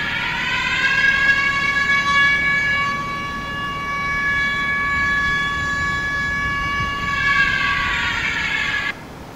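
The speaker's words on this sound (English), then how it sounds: "then we actually played the siren," A loud electronic siren played through a DJI Matrice 30 drone loudspeaker holds a steady, harmonic-rich tone for several seconds, with slight swells in volume, before cutting off abruptly.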